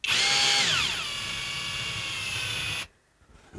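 A power drill drives screws into a heater mounting, whining loudly and then settling to a steady high pitch for nearly three seconds before stopping abruptly, close by.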